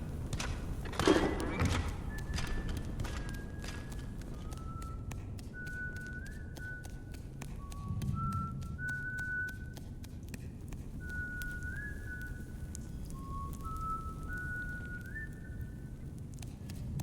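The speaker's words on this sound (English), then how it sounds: "I hear whistling." Melodic whistling in the video game Ghost of a Tale, a wandering tune of short held notes over a steady ambient bed, with a dull thump near the start.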